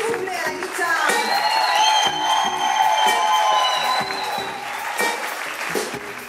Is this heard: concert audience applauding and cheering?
yes